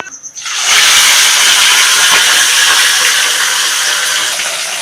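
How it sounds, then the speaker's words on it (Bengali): A rui fish head, salted and coated in turmeric, drops into hot oil and sets off a sudden loud, bright hissing sizzle that holds steady after a quiet start. "তেলটা এবার গরম হয়ে গেছে মুড়োটা আমি ভেজে নিচ্ছি"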